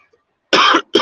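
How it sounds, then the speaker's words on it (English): A single person gives two short, sharp coughs close to the mic, the second clipped off, with silence before them. "I know I got the cough."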